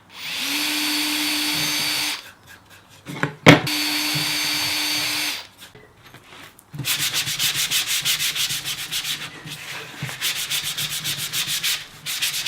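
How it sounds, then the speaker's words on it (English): A small drill bores holes into an acrylic router base plate for a Trend T4 router. It gives a steady, close whine that stops and restarts, followed by rhythmic scraping and rubbing strokes. "I've just drilled those holes here"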